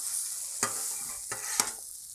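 Kielbasa and pierogies fry on a griddle with a steady, close sizzle, broken by three sharp clicks or taps of a utensil against the hot surface; no one talks.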